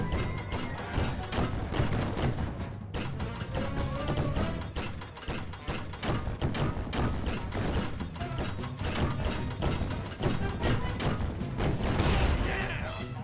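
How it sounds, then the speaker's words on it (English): Cannon fire and blasts in the video game Sly Cooper: Thieves in Time, a dense run of loud booming explosions and crashes piled over game music with hardly a break. "This cannon is awesome!"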